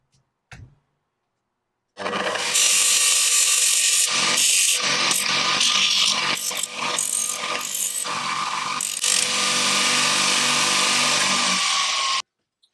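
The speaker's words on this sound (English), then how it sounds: "Let's give them a grind." A metal T-bar key is ground on a power grinder, a harsh, loud, continuous rasping that starts abruptly after a short silence. The tone dips and changes in several places as the pressure varies, then cuts off at the end.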